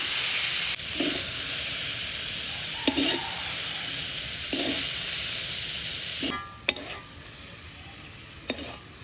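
Chicken momo filling sizzles steadily in a frying pan, with a continuous bright hiss broken by a few clinks and scrapes of stirring, close and fairly loud, before the sizzle drops away near the end.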